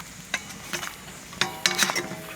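Pig trotters for red-braised pork being turned in a pan, giving a few soft clinks and scrapes of utensil on cookware over a faint, quiet simmer.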